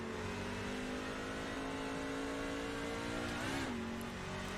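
A NASCAR pickup truck engine in iRacing drones at a steady high pitch, holds near one note, then dips and climbs briefly before settling again, loud and continuous throughout.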